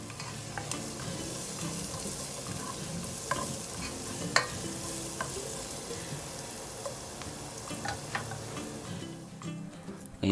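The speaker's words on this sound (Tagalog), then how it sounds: "ilagay ko na po yung onion. So haluin nyo po hanggang sa maluto yung onion" Onions sautéing in a pan for pork and shrimp meatball soup, stirred continuously, a steady close sizzle overlaid with frequent scraping and tapping of the spoon against the pan.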